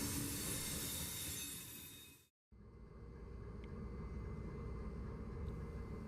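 CSX 3194 locomotive moving on rails, a steady rumbling roll with faint wheel squeal, heard at a distance and quiet, briefly cut off midway before continuing.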